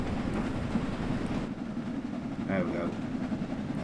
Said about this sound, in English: That sound is the sound of the train starting to pick up speed.